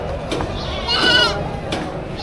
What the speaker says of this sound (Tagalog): O malalahing kambing yung binibenta ni Kuya.